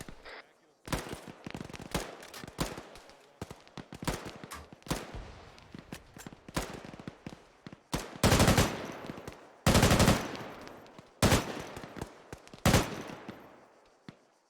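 Tank round fire and gunfire in the Squad military video game: loud bursts and sharp rapid shots, some in heavy clusters, crackle throughout with brief gaps.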